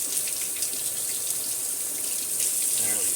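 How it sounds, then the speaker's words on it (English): Corn rinsed under running water from a tap for caldo de res in a backyard, a steady broadband gush that stays even and close throughout. "I'm actually going to rinse out my corn a little bit."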